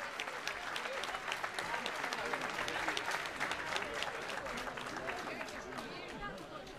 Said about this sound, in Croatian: I sada može onaj aplauz za koji sam molila na početku